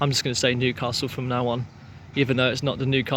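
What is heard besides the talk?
No everyday noise stands out behind the speech.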